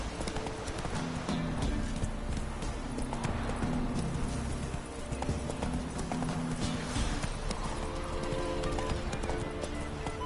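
Roach, the horse from The Witcher 3, gallops with steady, continuous hoofbeats. A game soundtrack and ambient noise sit close under the hooves, and a brief whinny may break through.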